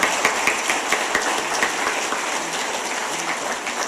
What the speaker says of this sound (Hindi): ब्राह्मणों और ठाकुरों, जोर से ताली बजाओ, जोर से ताली बजाओ